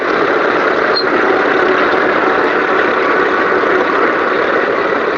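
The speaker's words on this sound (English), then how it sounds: "Big old 4-cylinder Cat engine in there." An old Caterpillar D7 bulldozer with a big four-cylinder Cat engine and cable-operated blade runs at a slow, steady idle, a continuous loud broadband drone with no break and no talking over it.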